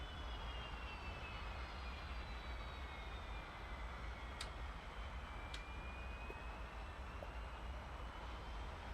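Mirage 2000 jet engine in the DCS flight simulator spooling up, a steady loud broadband roar with rising whine tones sweeping upward, continuous throughout with a couple of brief sharp clicks.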